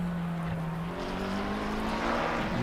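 A McLaren race car in a sim racing game at Paul Ricard, its engine droning steadily at high revs and rising slightly in pitch toward the end, with no talk over it.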